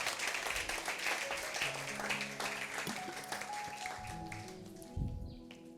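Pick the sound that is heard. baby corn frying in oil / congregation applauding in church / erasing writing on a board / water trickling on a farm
congregation applauding in church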